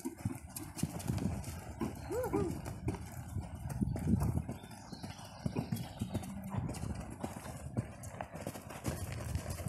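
A heavy-footed horse's hooves clop in a steady trotting rhythm on soft ground, fairly close, with some background voices and a faint engine hum.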